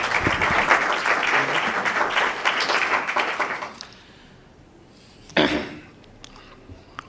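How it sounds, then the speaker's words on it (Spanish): An audience applauds in welcome for a speaker at a talk on listening as an art form, a dense burst of clapping that fades out after about four seconds, followed by a single loud thump or cough in the quiet. "vamos a dejar a Manuel, lo recibimos con un aplauso"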